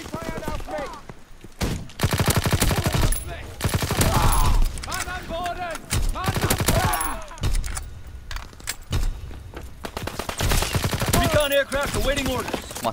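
Machine gun fire in a WW2 shooter game, sustained rattling bursts with short pauses, loud and close, mixed with other gunfire and occasional voices.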